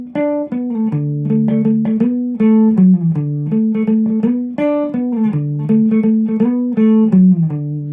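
Electric guitar playing a repeating riff in 3/4 time, steady strummed chords with moving bass notes in a rhythmic waltz-like pattern, loud and close with no talking.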